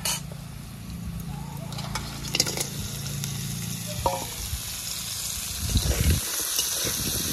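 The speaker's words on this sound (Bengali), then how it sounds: "আলু কাঁকড়া একসঙ্গেই ভাজা করব।" Potatoes and crabs fry together in a pan, giving a steady sizzle throughout with occasional scraping and stirring clatter.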